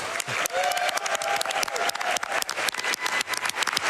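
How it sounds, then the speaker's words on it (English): Loud, dense applause and cheering from a large live audience at a Summer Games Done Quick 2019 speedrun event, honoring the TASBot team, sustained throughout with scattered sharp claps standing out. "can we get one more big round of applause for everybody who's involved with TASBot this year?"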